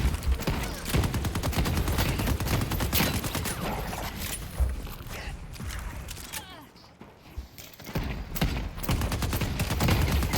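Heavy, punchy gunfire in a video game, dense rapid bursts of loud shots filling most of the stretch with a brief lull near the middle, mixed with game effects and a voice talking over it.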